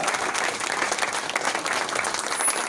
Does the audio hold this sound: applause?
yes